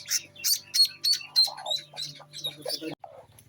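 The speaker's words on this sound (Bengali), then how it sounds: "একটা শুধু মুরগি ফুটাইছে আর এগুলো সব ইনকিউবেটর বাচ্চা" Newly hatched chicks, mostly incubator-hatched with one hen's brood, chirp in quick high peeps throughout, close and busy, with a hen's lower clucks and rustling beneath and a brief pause near the end.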